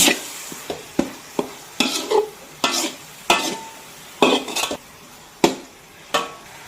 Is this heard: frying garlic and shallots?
yes